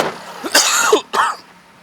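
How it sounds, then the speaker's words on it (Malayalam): Two sharp coughs from a person at a used-car dealership, a short burst and then a second after a brief pause, close and fairly loud over faint background hum. "ചുമയാണല്ലേ? സംസാരിച്ചപ്പം ചുമ വരും."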